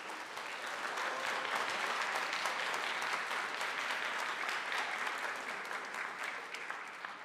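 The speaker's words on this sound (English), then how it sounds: "let's give them another round of applause." A concert audience at a holiday glee club performance applauds with dense, sustained clapping that stays even throughout.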